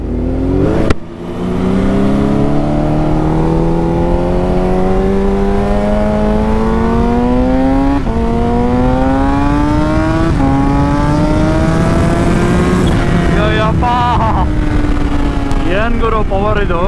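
A Kawasaki H2 Carbon supercharged motorcycle accelerates hard and loud for the whole stretch. The engine note climbs steadily, drops briefly at each upshift, then rises again, as if heard from the rider's position.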